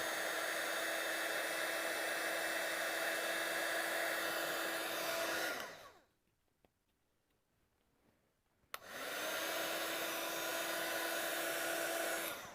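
A heat tool blows steadily to melt silver embossing powder on a handmade Christmas card, loud and close, cutting off for about three seconds before starting again.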